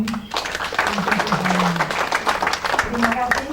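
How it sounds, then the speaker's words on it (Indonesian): Church congregation applauding at the dedication of a new church building in Biak, Papua, a dense patter of clapping running throughout with a voice and tones carrying over it. "Haleluya, kita beri tepuk tangan."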